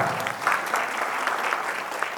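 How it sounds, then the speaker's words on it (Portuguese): Steady applause from an audience at an accountants' event, a continuous wash of clapping for a woman named Amanda, moderately loud, with a voice briefly audible underneath. "Dá uma salva de palmas para Amanda aqui, pessoal"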